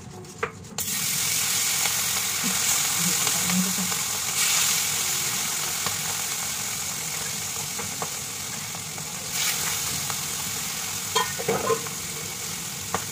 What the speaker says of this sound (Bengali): চলো মাছগুলোকে তুলে নিয়ে হালকা করে ভেজে দিই।